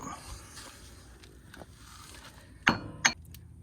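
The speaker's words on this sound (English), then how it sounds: "So let's tap this baby home, just a little tappy tap." Two sharp metallic taps land close together near the end as a bearing is driven into the axle housing of a Ventrac 4500, outdoors in the field, after a stretch of quiet background.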